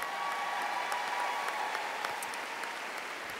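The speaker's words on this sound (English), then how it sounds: "I think that deserves a big round of applause" Sustained applause from a large audience at a Mary Kay sales seminar, a dense, even wash of clapping, fairly faint and distant, continuing throughout without voices.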